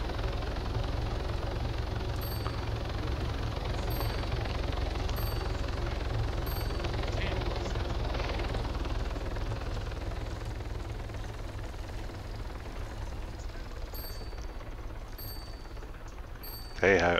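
A helicopter in a crime-and-gang video game gives off a continuous low rotor and engine drone throughout, steady and fairly loud, with faint game effects and occasional talk in the background.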